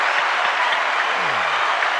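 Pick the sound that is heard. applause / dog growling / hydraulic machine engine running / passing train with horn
applause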